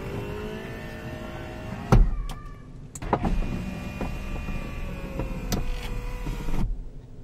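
Power window motor on a Porsche Boxster with a faulty regulator, whirring steadily for several seconds with clunks and clicks along the way, close and fairly quiet, ending with a stop.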